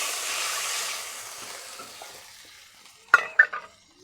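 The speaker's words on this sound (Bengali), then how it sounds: "এবারে দিয়ে দেবো জল।" Water poured into a pan of sizzling fried masala with ground cardamom and cinnamon for a prawn and pointed gourd curry, a bright hiss fading off, then a few sharp bubbling spurts near the end.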